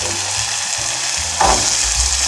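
Rimbang is frying in sambal in a pan with a steady, loud sizzle throughout, while a spatula stirs it with a brief scraping swish partway through.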